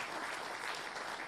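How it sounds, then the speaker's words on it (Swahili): Sustained applause from an audience for the CRDB chief executive at a gathering of artists and content creators, a dense steady clapping wash lasting the whole moment with no talk over it. "naomba mpigie makofi mengi sana mtendaji mkuu"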